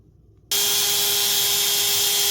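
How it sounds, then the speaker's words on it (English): A Dremel rotary tool grinds a bevel onto the lock of a Twosun TS428 folding knife with an N690 blade and titanium parts. It starts abruptly after a short quiet moment, then holds a loud, steady, high-pitched whine. "Taking the Dremel, putting a little bit more bevel on this guy."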